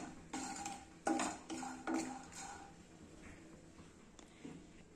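A pan of vegetables and coconut frying over a medium flame, stirred with a utensil: several sharp metallic scrapes and clinks in the first two seconds, then quieter, sparser taps against a faint background.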